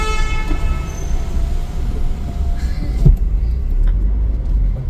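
Saturday traffic near Phoenix Mall in Pune gives a loud steady road rumble with a sustained car horn blaring at the start and a sharp knock partway through.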